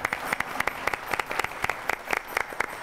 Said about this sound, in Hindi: एक बार जोरदार तालियां हमारे इस प्यारे प्यारे दर्शक के लिए